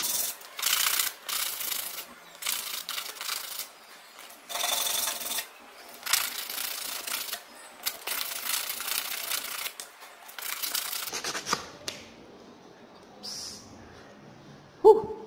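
Hand sanding a small wooden pendant with 80 grit sandpaper, no power tools: rapid, close scratchy rubbing strokes in bursts, then quieter handling and a few light knocks near the end.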